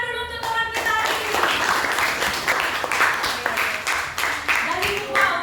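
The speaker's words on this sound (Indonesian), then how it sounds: "Tepuk tangan dulu untuk teman kita hari ini" A small classroom group claps together after a prayer, with uneven clapping that comes in bursts and voices mixing in at the start.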